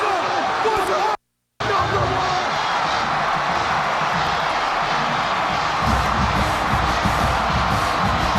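A college football crowd in Lubbock roars as fans storm the field after an upset, a dense loud wash of noise with a broadcaster talking over it and a brief dropout near the start.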